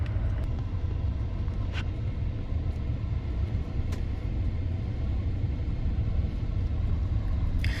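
A car driving near a dome home: a steady low road rumble fills the whole stretch at moderate level, with a few faint clicks over it and no talking.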